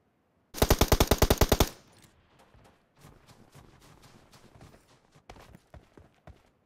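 A rapid burst of about a dozen loud automatic gunshots fires in PUBG Mobile, followed by scattered fainter distant shots and clatter.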